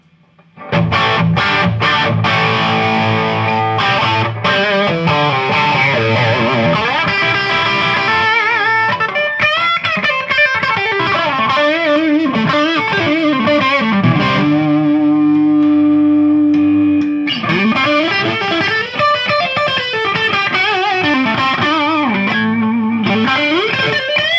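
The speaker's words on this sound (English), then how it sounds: "This is with the tube screamer, with the gain up and the master up." A Soldano Avenger 100 tube amp with a Tube Screamer overdrive pedal, gain and master up, plays loud, saturated electric guitar chords and sustained notes, thick with distortion and a touch of echo, with no voices.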